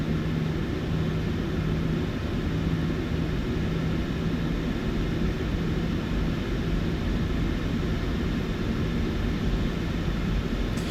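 A PMDG 737-800 airliner in a flight simulator taxis at East Midlands, its engines giving a steady, loud broadband roar with a low droning hum that stays constant throughout, with no other sounds.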